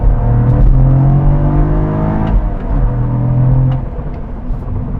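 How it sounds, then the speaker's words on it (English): A Cadillac CT4-V Blackwing with a 470-horsepower twin-turbo V6 accelerates hard, its loud engine drone rising in pitch, dropping at shifts and climbing again, heard close from inside the car. "Wow, the power really does come on super strong on this CT4V Blackwing"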